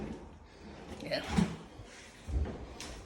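Drawers slide and bump shut a couple of times with soft wooden knocks, while someone speaks briefly nearby.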